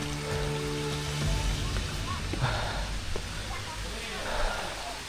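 Water rushes as a continuous broadband roar at Chingri Jhiri waterfall in Bandarban, under someone speaking and some faint knocks.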